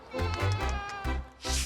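Goats bleat outdoors in a run of loud, close, wavering calls, several in quick succession with short gaps between them.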